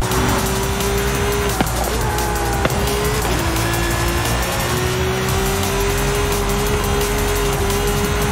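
An SUV in Forza Horizon 5 drives and corners with a loud, continuous engine drone that rises and falls slightly, with brief tire noise under it and no talk.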